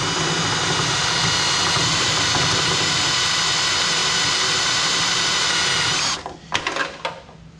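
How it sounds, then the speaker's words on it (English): A loud power drill with a spot weld cutter grinds steadily into a Jeep fender's metal for about six seconds, then cuts off, followed by a few light clanks and taps. "we'll drill a few of these out and see this work"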